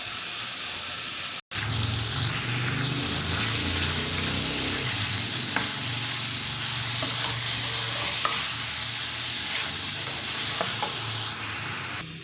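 Tripe is stirred and fried in a spiced tempering with dried fenugreek and korma masala, a loud continuous sizzle with scraping stirs. The sound cuts out briefly near the start and then continues close up, with no talk.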